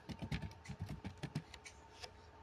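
Fingers type a ping command on a computer keyboard, a quick close run of soft clacking keystrokes that slows to a few scattered taps, with a faint steady hum underneath.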